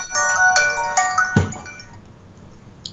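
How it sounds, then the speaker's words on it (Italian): An incoming call's telephone ringtone chirps in a quick, bright repeating pattern, loud and close, during an Italian live web TV broadcast, then gives way to a quieter background. "Oh, ecco una prima telefonata."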